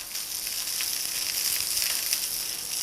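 Green chillies fry in hot oil with a continuous, even sizzle that stays at a moderate level and stands alone, with no voices.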